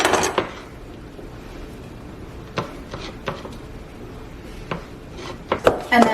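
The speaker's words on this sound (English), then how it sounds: "we're gonna cut up some mushrooms" A knife chops mushrooms on a cutting board, a handful of sharp separate knocks spaced irregularly over a low steady room hum, a couple of them close together near the end.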